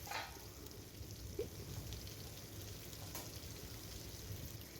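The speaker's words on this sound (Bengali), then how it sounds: "আলুগুলো দিয়ে দেওয়ার পরও 2-3 মিনিট আরও ভেজে নিলাম পটল আর আলুটা" Pointed gourd and potatoes fry in oil in a wok for a vegetarian potol aloo korma, giving a faint, steady crackling sizzle with no voices.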